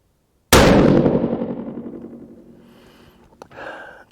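A single rifle shot fired with a factory load cracks sharply and close, then rings out in a long, fading echo, with a brief clatter near the end.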